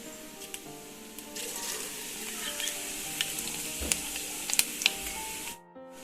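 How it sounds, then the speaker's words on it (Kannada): Crushed garlic dropped into hot oil already holding mustard seeds and cumin, a steady close sizzle and crackle with a few sharp pops and stirring scrapes, then abruptly cut off. "ಈಗ ಬೆಳ್ಳುಳ್ಳಿ ಹಾಕ್ತೀನಿ ಸ್ನೇಹಿತರೆ"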